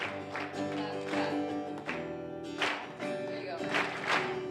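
Festival audience clapping along in rhythm during a Sunday musical performance, with regular claps running under singing and music.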